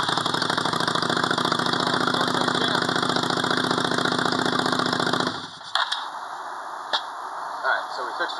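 A repaired motorcycle engine, just after a regulator rectifier fix, idles loud and steady close by for about five seconds, then cuts out, leaving faint background noise with a few light knocks.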